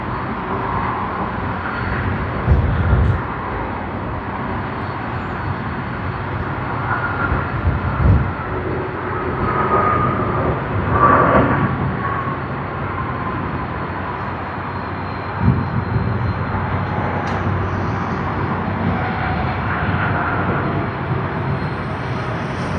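A large jet aircraft rumbles and whines continuously while taxiing at Sydney Airport, a steady distant roar with slight swells and faint tonal engine whine throughout.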